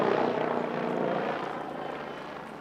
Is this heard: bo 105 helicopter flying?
yes